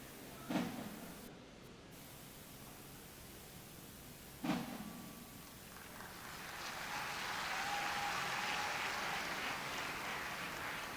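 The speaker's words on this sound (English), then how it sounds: "Shall we give all our graduates another resounding round of applause?" Applause for graduates at the 35th convocation ceremony of the Nigerian Defence Academy builds from a hush into a steady, distant wash of clapping from a large audience, after two sharp knocks early on.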